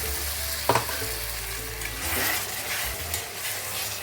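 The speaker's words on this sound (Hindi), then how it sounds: "ये जो मसाला का पानी हमने रखे है मिक्सर धो के, ये हम ऐड कर देते हैं" Water rinsed from a spice grinder jar is poured into a pan of Maharashtra-style prawn masala curry and hisses loudly into a steady close-up sizzle and bubbling, with a light clink of the pan, no talk.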